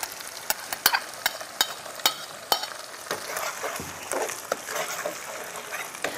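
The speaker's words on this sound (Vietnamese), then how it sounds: "thì lúc đầu chúng ta xào rất là bình thường, thì hồi khi cho cắt nguyên liệu chín thì chúng ta cho dừa vào" Coconut fried rice stir-fried in a pan, with loud rhythmic scrapes and clanks of a utensil against the pan over a steady oily sizzle, near and continuous.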